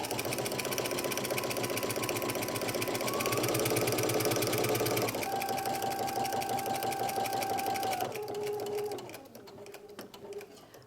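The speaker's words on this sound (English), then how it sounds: "then we're going to go to the sewing machine and sew" A sewing machine runs in a fast, steady stitching rhythm, close and loud, then slows and fades out near the end.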